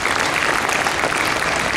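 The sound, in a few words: audience applause at a school Marathi language day event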